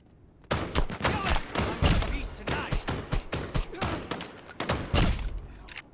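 Shotgun blasts in the Lost Light video game, a rapid series of loud, punchy booms and thuds packed tightly together, firing in bursts almost without pause.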